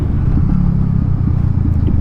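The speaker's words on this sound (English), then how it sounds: "I love this exhaust." Motorcycle exhaust idling or running steadily with a loud, continuous low rumble and an even pulsing throb, close by and with no talking.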